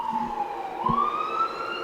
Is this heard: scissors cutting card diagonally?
no